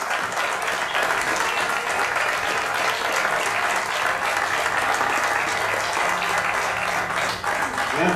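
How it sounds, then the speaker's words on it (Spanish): Steady, dense applause from an audience at a regional motorcycle road-racing trophy ceremony, greeting three riders on the podium; loud, continuous clapping with crowd murmur underneath and no talking on top. "Ahora sí, un fuerte aplauso a estas tres pilotos."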